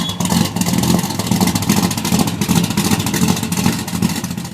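A 1970 Plymouth Roadrunner with a 440 Six Pack V8 engine revs loudly and steadily, its throaty roar holding constant and close without pause.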